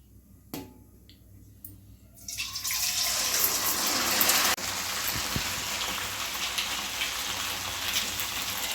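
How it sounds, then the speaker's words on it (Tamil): Hakka noodle snacks drop into hot oil after a couple of faint clicks, then a loud, steady sizzle and crackle of deep frying takes over and keeps going close by. "எண்ணெயில் பொரித்து எடுத்துக்கலாம் கொஞ்சம் கொஞ்சமாக"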